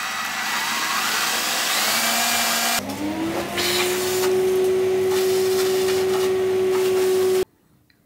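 A power drill boring holes in wooden battens, a loud sustained motor whine that shifts pitch as the bit bites into the wood, then cuts off abruptly near the end, leaving quiet.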